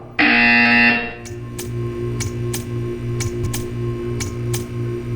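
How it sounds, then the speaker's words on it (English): A loud electronic buzzer from the game Portal 2 sounds for about a second, then stops, leaving a steady low hum broken by faint regular ticking clicks. "You will hear a buzzer."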